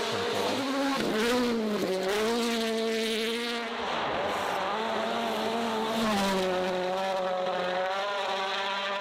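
Rally car driven hard on snow, its engine screaming and rising and falling in pitch through gear changes, loud and continuous with no talk.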